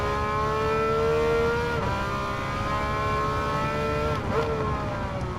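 A Porsche 911 racing in Gran Turismo 7 on sports soft tires sends out a loud, continuous engine note that climbs in pitch, drops briefly at a shift and then rises again, with a second dip near the end.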